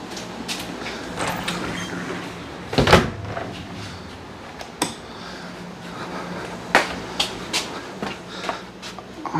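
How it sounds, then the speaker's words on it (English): A door swings open while an indoor HVAC unit is moved through a house, with a sharp thump and rattle near the middle, then lighter clicks and knocks against a low steady background. "Let me get the other door open"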